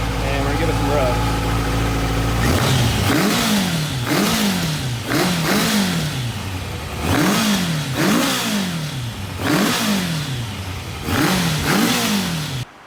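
A fully warmed-up Kawasaki 1000 ATV engine idles, then is revved hard in a series of about six rising and falling blips, loud and close.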